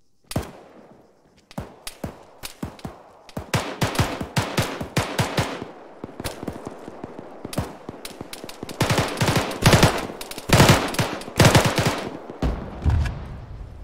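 Rapid automatic gunfire rattles in a shooter video game, with long, sharp bursts and scattered single shots that grow denser and louder toward the end, with no voices over them.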